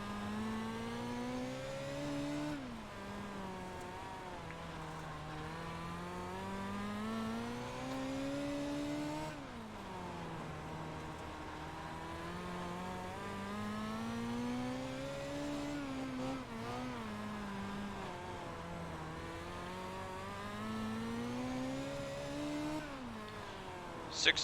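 Midget race car engines on the Kokomo dirt track in iRacing rev and wind up continuously, rising and falling in pitch across several laps, loud and close, with a faint voice underneath.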